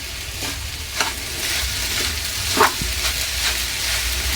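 Sugar and semolina are stirred in a pan for kesari, a dense steady sizzle with soft scraping strokes of a spoon recurring every half second or so, close and continuous.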